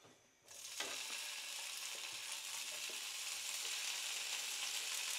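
Ghee hitting a hot tawa griddle breaks into a sudden loud sizzle after a brief quiet moment, then crackles on steadily, close and continuous.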